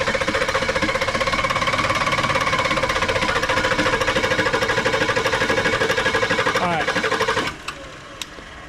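A Ford Ranchero engine that ran out of fuel cranks over with a rapid, steady rhythmic chugging, then stops abruptly, leaving a few faint clicks.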